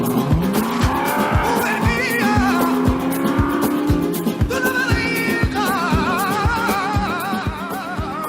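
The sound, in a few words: Maserati GranTurismo S car driving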